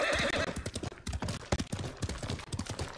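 A horse in the video game Ghost of Tsushima, galloping with rhythmic hoofbeat clip-clops and a loud neigh near the start, all close and prominent with no talk over it.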